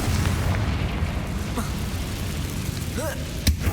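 Confringo fire spell from Hogwarts Legacy, a booming magical blast over a dense game soundtrack, with a rising whoosh near the end and a sharp burst at the close.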